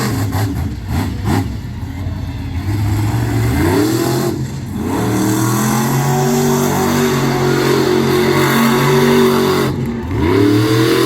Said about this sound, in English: And those were some nice donuts from Brandon Darrow